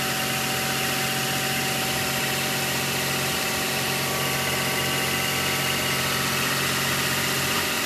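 An 80 series Land Cruiser engine runs steadily and smoothly after a heater control valve repair, a constant close hum with no talk over it.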